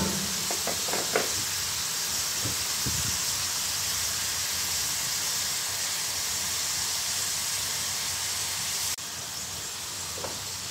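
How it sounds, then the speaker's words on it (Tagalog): Tomatoes sauté in a pan for pasta with a steady, close hissing sizzle throughout, broken by a few faint scraping stirs. "Igisa mo lang siya ng mga 3 minutes guys."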